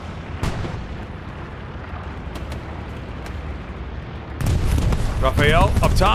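Bombing run explosions in Hell Let Loose on console, a sustained rumble of distant blasts that swells louder near the end, with someone talking briefly over it.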